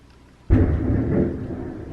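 A sudden thunder boom after a lightning flash breaks out of quiet, a low heavy rumble that swells and rolls on for over a second, fairly loud and close, with no talk over it.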